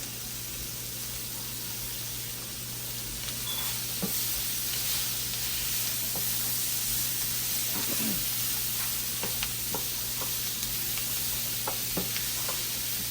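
Butter sizzles in a pan during meal prep cooking, a steady, hissing fry that runs the whole time and rises slightly after a few seconds, with scattered soft clicks and scrapes and no voices.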